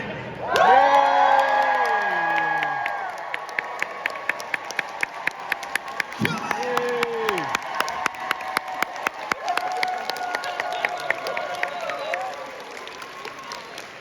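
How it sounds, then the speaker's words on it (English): A comic convention panel audience in Scotland claps steadily and cheers, with whoops and high shouts rising over the applause before it thins out. "Give yourselves a round of applause for that."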